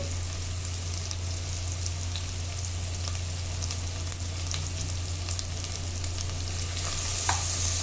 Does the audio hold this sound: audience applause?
no